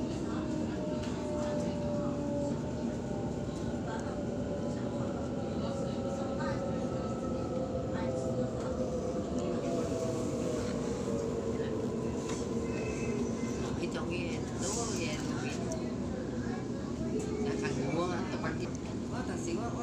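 Heard from on board, a Sydney T3 Bankstown Line train pulls into Lakemba station with a steady rumbling ride and whining traction motors that slide down in pitch as it slows, while a voice speaks over the noise.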